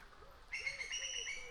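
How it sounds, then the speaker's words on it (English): A bird calls repeatedly outdoors during a birdwatching outing, with a series of short, evenly spaced rising-and-falling notes and thin high whistled tones over faint background noise. "The bird still calling."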